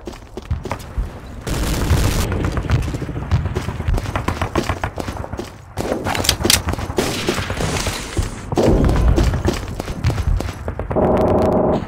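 Tank-mounted machine gun in Day of Defeat: Source on a D-Day map, loud sustained bursts of rapid gunfire mixed with booms and other shots, near and continuous with brief gaps.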